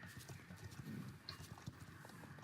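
Clip-clop of horse hooves in a video game, a steady trotting rhythm of close, moderately loud hoofbeats running through the whole stretch with no talk over it.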